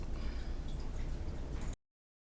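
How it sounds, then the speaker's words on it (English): Water trickling and dripping steadily in a cat drinking fountain indoors, a close, continuous burbling wash with small drip textures that runs for under two seconds and then cuts off. "Is there water making noises? Yes, because there's a cat fountain in this room"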